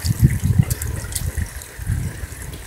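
A small mountain creek along the Wind Lakes trail in Idaho flows steadily nearby, a continuous watery wash with low gurgling bursts near the start and again toward the end.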